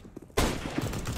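Loud burst of gunfire in the video game Counter-Strike: Global Offensive, a sharp onset followed by a dense, sustained volley of shots, close and loud.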